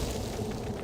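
A grenade blast in Star Wars: Knights of the Old Republic, a short, loud, rumbling boom that fills the whole moment.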